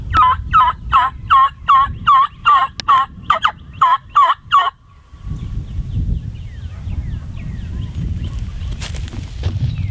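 A rapid string of about ten loud, nasal honking calls from fowl in the woods at turkey-hunting time, close and insistent, then broken off into rustling ambient noise with faint distant calls.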